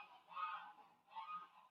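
Geese honk twice, faint and distant, in slow separate calls during a quiet yoga session with no talking.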